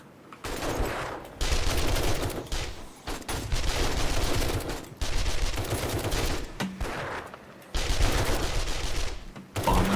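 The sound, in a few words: SMG gunfire in the video game 7 Days to Die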